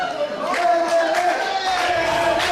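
A wrestling crowd at a women's wrestling event chants in unison, a loud, sustained, rhythmic chorus of many voices filling the arena.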